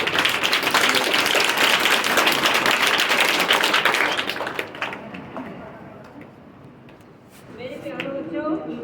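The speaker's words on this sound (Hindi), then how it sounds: "सब बच्चे ताली बजाएंगे एक बार" Schoolchildren at a school assembly clap loudly in a dense burst that lasts about four seconds and then dies away into quiet room noise, with voices starting up near the end.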